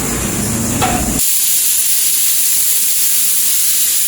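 A pressure cooker whistles and vents steam, with a loud, steady, close-up hiss and a high whistling tone that continue throughout, shifting in character a little after the first second.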